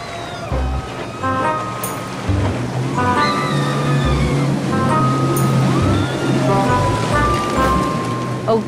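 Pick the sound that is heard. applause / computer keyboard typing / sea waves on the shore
sea waves on the shore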